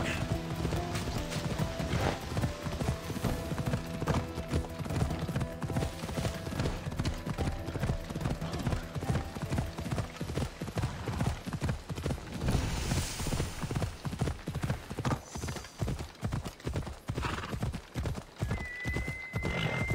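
A horse gallops in Assassin's Creed Odyssey, its rapid clip-clop hoofbeats pounding steadily throughout with an occasional whinny, loud and close.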